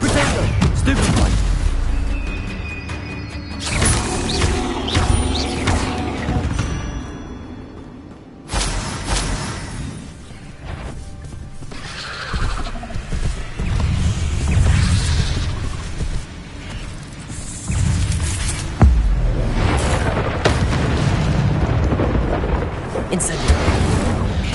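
Spell explosions in Hogwarts Legacy: heavy booming blasts and rumbling impacts recur through a loud, chaotic fight, with a voice speaking between the bursts.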